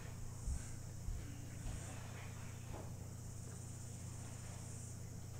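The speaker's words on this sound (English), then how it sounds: "So you can hear those are the cicadas." Cicadas sing in a New Zealand garden as a steady high shrill drone, continuous and even throughout, with a few faint low bumps nearby.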